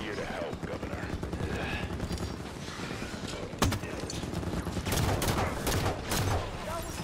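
Turrets in the video game Halo 5 fire bursts of heavy gunfire over a constant drone of battle noise, with louder volleys toward the end and voices talking over the action.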